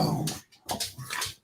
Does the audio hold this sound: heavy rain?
no